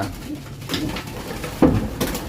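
Pigeons, including young birds, coo softly amid rustling and shuffling in an enclosed loft, with a brief clatter partway through.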